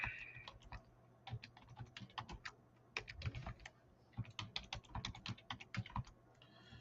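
Fast, irregular typing on a computer keyboard, up close and quiet, with bursts of rapid key clicks separated by brief pauses.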